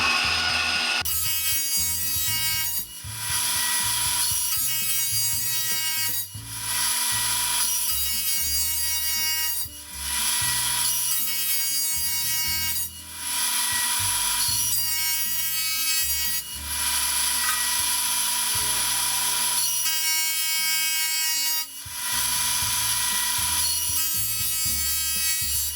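A power planer makes light cuts across reclaimed pallet boards in a workshop, a loud high whine rising with each pass and dipping briefly between them, roughly every three to four seconds.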